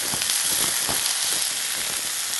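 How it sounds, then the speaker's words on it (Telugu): Frozen corn sizzles and fries in a pan with onions, a steady close hissing crackle with faint stirring scrapes, no talking. "కార్న్ని మనం ఫ్రై చేసుకుంటున్నాం."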